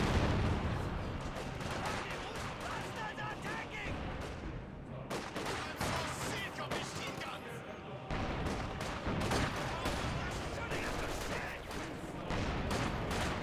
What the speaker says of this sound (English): The barrage in this region.